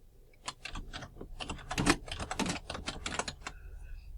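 Brisk typing on a computer keyboard, a quick run of close, clicky keystrokes with short pauses, alone and with no talking.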